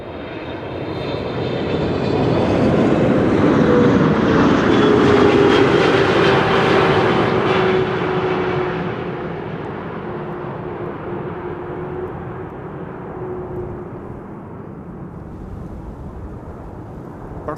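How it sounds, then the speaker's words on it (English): A KLM airliner arriving at Amsterdam Schiphol Airport on a frosty, sunny day, its jet engine roar swelling to a loud peak as it passes overhead, then easing into a steady, fading rumble. "This is KLM 5598 arriving from Cape Town in South"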